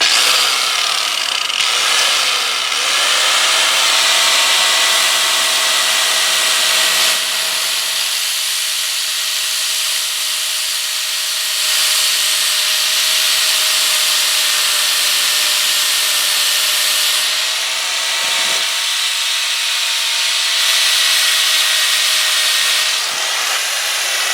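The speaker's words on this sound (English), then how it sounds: "I'm using a grinder with a 36 grit disc, flap disc on it, and we're going to just try to take a little bit off" An angle grinder fitted with a 36 grit flap disc sands and shapes a wooden hammer handle, a loud, continuous close whine with abrasive rasping that shifts in pitch and pressure for the whole stretch.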